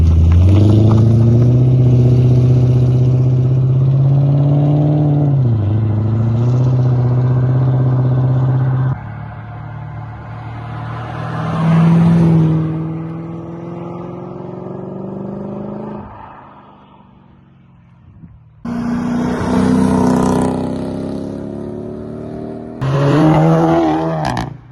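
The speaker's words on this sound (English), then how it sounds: "got to do a few flyby shots, of course, obligatory flyby shots." Cars make flyby passes on a Welsh road on the Evo Triangle, engines swelling as they approach and fading as they pass, with several separate passes in a row and brief quiet gaps between them.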